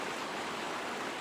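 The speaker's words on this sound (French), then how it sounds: "Une très belle rivière" A small river flowing beside a house in the countryside, giving a steady, close, even rush of water that stays broadband and constant throughout, with no voices.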